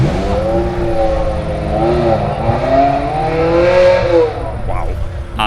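A 500 horsepower supercharged Honda K24 car engine revs hard at the Nurburgring, rising and falling in pitch with strong harmonics over steady loud engine noise, nearby, with faint voices underneath.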